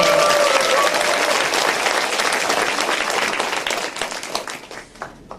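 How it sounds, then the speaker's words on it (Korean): An audience at a Saturday lecture gives a big round of applause, loud and dense at first, then thinning and fading toward the end. "황금 같은 토요일에 황금을 만들기 위해서 오신 여러분들 자신을 위해서 큰 박수 한번."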